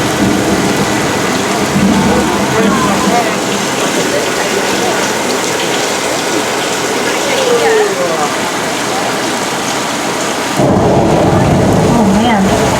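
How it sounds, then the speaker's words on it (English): Loud studio rainstorm effect from an overhead sprinkler system, a dense steady hiss of falling water with low thunder rumbles rolling underneath, then a sudden shift to a brighter, heavier downpour near the end; someone talks faintly beneath it. "Oh man, we've got some thunder going on"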